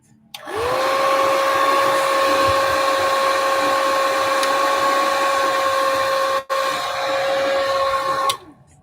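A hair dryer switches on and blows hot air onto a Montgomery Ward radio with a steady whirring roar and high whine, cutting out briefly once before shutting off.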